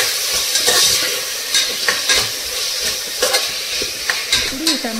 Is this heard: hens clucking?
no